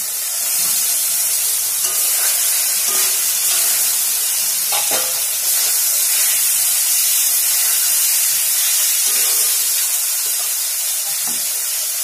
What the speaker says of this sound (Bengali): এবার মাশরুমগুলো দেবো।